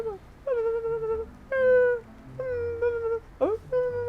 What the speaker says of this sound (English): Oh, it's like a whimpering coming through.